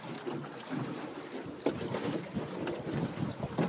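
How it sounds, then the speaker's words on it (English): Breeze buffeting the microphone aboard a small Blue Jay sailboat: a continuous rough, blustery rush with low rumbling gusts and faint water movement, steady and fairly close, no voices. "Nice little breeze."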